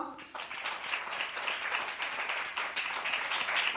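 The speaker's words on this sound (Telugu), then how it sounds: "ఒకసారి చప్పట్లు కొడదామా?" A church congregation claps hands together in a sustained, uneven round of applause, moderately loud and slightly distant, continuing throughout.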